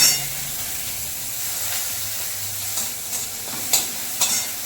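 Crushed ginger frying in hot oil with panch phoron while a chutney is cooked, giving a steady broadband sizzle with a few sharper pops and stirring scrapes; no one speaks.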